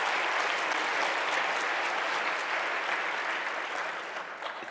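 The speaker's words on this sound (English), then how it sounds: "It's always dangerous to receive a round of applause before you've done anything" A lecture audience gives a speaker a steady round of applause, a dense wash of many hands clapping at moderate distance that fades slightly toward the end, no talk over it.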